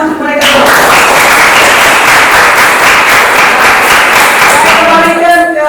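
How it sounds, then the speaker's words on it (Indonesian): A classroom group at a student teaching session claps loudly and densely for several seconds in a sustained burst, with brief talking at the start and again as the clapping stops. "Tepuk tangan untuk mereka."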